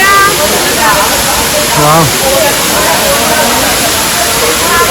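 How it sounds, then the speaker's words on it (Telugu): Rushing water at the Rampachodavaram waterfall roars loudly and steadily from start to finish, with people's voices and an exclamation heard faintly over the constant spray. "ఇదే రంపచోడవరం వాటర్ ఫాల్స్"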